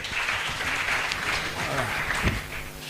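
Applause at a county public participation meeting, a steady patter of clapping from a modest crowd with some murmuring voices underneath.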